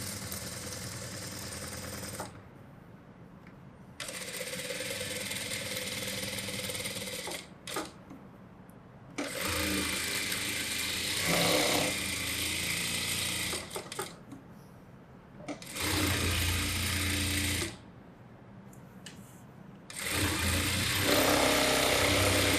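A sewing machine stitches the lining around a blouse back piece in five loud, even runs of rapid clatter, separated by short quiet pauses.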